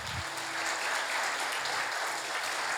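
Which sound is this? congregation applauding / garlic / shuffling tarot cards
congregation applauding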